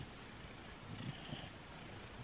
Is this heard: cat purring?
yes